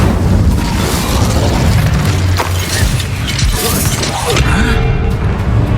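Incendio fire spell cast in the Hogwarts Legacy video game: a loud, dense burst of booming, crackling combat effects with impacts and clattering mechanisms, continuous and close throughout.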